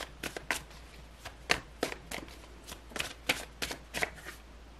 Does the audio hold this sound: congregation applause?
no